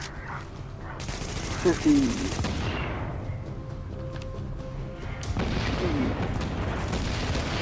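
Explosive rounds fire repeatedly at a boss in The Division, with bursts of gunfire and booms mixed under excited player voices.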